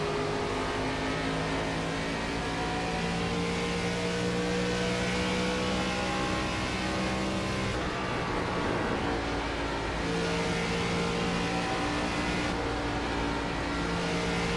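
Race car engines droning steadily around the Darlington oval in iRacing, a dense continuous roar with shifting pitch as cars run close together, loud and unbroken with no talk.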